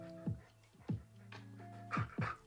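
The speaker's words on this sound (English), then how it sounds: "I brought my dog today. He's making a lot of noise." A dog pants and whimpers right up against the microphone in four close, breathy bursts with whiny tones between them.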